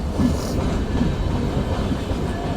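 The Sagardari Express rolls into Ishwardi railway junction, a steady loud rumble of carriages with soft wheel clatter, close and continuous with no talking.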